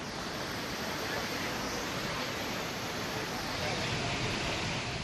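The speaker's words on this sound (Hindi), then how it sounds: "बालगंगा नदी में पानी पुल के ठीक नीचे से बह रहा है।" Floodwater of the Balganga river in Tehri surges under a bridge during monsoon flooding, a dense, steady roar of rushing water that holds at a constant level throughout without a break.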